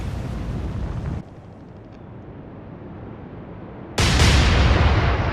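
Naval 5-inch guns firing in the Atlantic Fleet game, a heavy blast that fades into a low rumble before a second loud, broad boom erupts near the end, no voices present.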